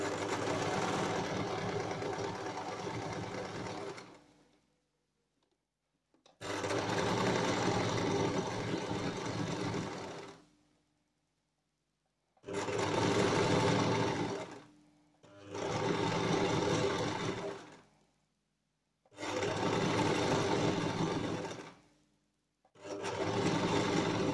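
A sewing machine stitches fabric for a hair scrunchy in several close, steady whirring runs of a few seconds each, separated by short silent pauses, with no voices.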